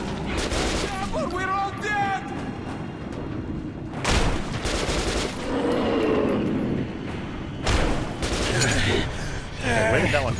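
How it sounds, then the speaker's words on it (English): Gunfire in the video game Metro 2033 on hardcore difficulty, with repeated bursts of shots and heavy booms over several seconds and players shouting and talking throughout. "Shoot them! You shoot!"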